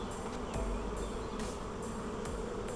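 Dense, steady buzzing of many honeybees swarming around an open, overcrowded hive, close and continuous with a few louder passes of individual bees near the ear.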